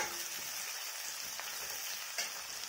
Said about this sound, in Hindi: इसको अच्छे तरह से हम फ्राई करेंगे